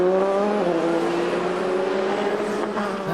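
Audi race cars at the 6 Hours of Bahrain, a FIA WEC endurance race: a steady loud engine drone with a sustained tonal whine, slight pitch shifts as cars pass, no talk.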